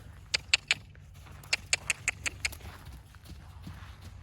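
Hooves of a young horse clip-clopping as it walks around, a few sharp, fairly close clops in uneven clusters over a faint low rumble, no speech.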